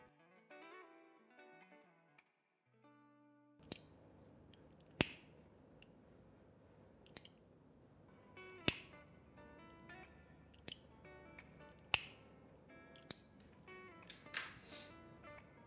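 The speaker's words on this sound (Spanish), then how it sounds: "voy a tomar las tijeras y voy a cortar todo el borde" Scissors snip around the edge of a handmade embroidery bracelet with crystal stones and charms, giving a series of sharp, close, separate cuts at an irregular pace over soft background tones, with no talking.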